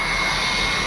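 A handheld heat blower used to apply Hayabusa decals on a Honda Click V2 scooter produces a steady, close, loud airy roar with no break.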